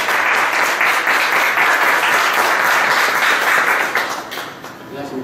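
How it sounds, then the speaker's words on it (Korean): A seated audience at a patent performance-management lecture gives warm applause to welcome the incoming speaker, a dense, steady patter of many hands that thins out and fades near the end. "큰 박수로 맞아주시면 감사하겠습니다"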